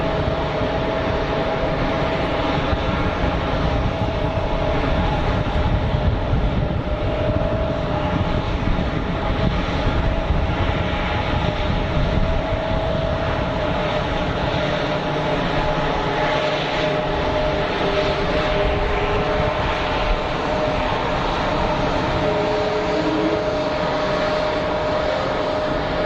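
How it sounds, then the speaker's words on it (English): Air France Airbus A220 airliner on short final at Geneva Airport, a steady jet engine roar holding loud and even throughout, heard from the ground nearby. "It's like an A220 on short final."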